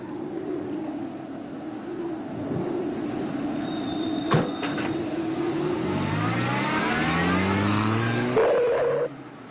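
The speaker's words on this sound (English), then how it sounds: "Do get in and let's drive out of this windy town." A small car engine revs and pulls away, rising in pitch through the gears, with outdoor traffic noise around it.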